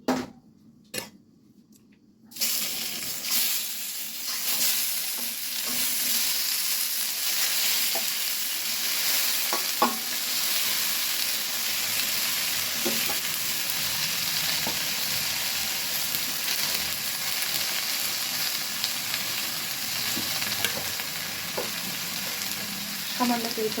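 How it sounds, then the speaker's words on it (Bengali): Tomatoes and onions fry in a pan for a tomato bharta, giving a steady, close sizzle that runs continuously after a brief quiet start, with occasional soft stirring clicks. "এখন আমি টমেটো আর পেঁয়াজটা ভেজে নেব।"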